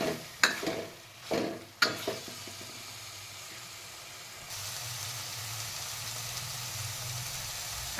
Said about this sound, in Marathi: आपण ही कोळंबी पण परतून घेऊया छान अशी